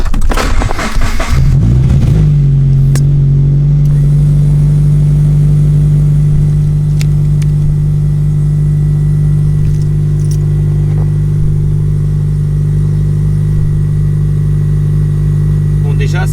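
Airlift Autopilot V2 air suspension compressor starts up with a clunk and then drones steadily while refilling its air tank, a loud sustained hum close by, with faint clicks over it.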